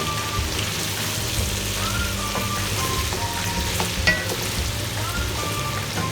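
Chicken pieces coated in garlic-ginger paste fry in a karahi, a steady dense crackle and sizzle with a few soft stirring scrapes, close and continuous with no talking.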